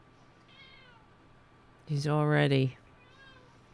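A house cat gives one faint chirp, then a loud, drawn-out meow up close, followed by a softer trailing call, with someone speaking briefly.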